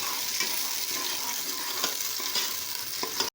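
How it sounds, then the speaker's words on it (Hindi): Finely chopped onions fry in hot ghee in a pan, giving a steady, close sizzle with faint stirring scrapes and no talking. "घी गर्म हो गया है। इसमें 3 दरमियाने साइज़ के प्याज बारीक चॉप कर लिए हैं। इसको 3-4 मिनट के लिए सॉफ्ट करेंगे"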